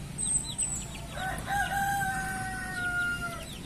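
On a broiler chicken farm, a rooster lets out a long, drawn crow over soft clucking and chirps from the flock, fairly close against a low background murmur.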